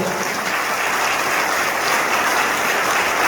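An audience at a political rally meeting in Guadeloupe claps loudly and steadily, a dense, continuous wash of applause that holds at full strength throughout.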